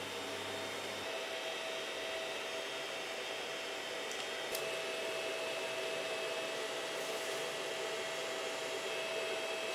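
A pellet extruder 3D printer running through a print, giving a steady, even whirring hum with a faint thin whine on top, constant for the whole stretch with no speech.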